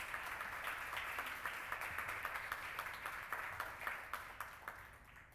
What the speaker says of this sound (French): Je veux demander de l'applaudir, s'il vous plaît.